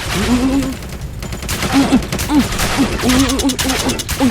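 Gunfire in Minecraft on a shooting-style PvP server: rapid, dense bursts of shots sounding close and loud, with excited voices shouting throughout.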